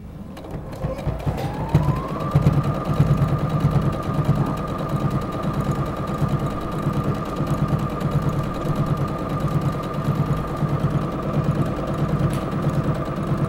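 A sewing machine stitches a bag organizer in a crafts studio, its motor spinning up then running at a steady, fast mechanical rhythm, close and continuous throughout.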